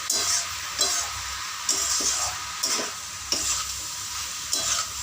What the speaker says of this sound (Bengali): সব সবজিগুলোকে আমি মিশিয়ে নেবো সর্ষে বাটার সঙ্গে